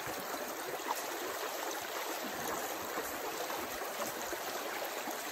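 Water rushes and splashes steadily through a gold sluice box during a cleanup, a continuous close, broadband wash with no talking.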